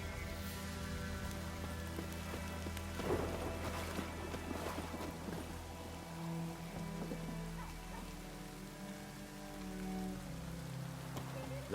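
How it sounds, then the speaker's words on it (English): Rain falling in The Witcher 3 video game, a soft continuous patter over a sustained tonal ambient music bed, fairly quiet with a few brief louder splashes and no talking. "Let it rain. Wash the blood from the fields."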